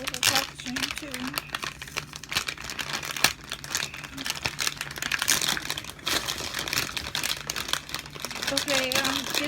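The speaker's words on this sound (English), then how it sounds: "It's so crispy. Really cool resealable packaging too." Resealable plastic packaging crinkles and crackles up close in repeated rustling bursts while people talk over it throughout.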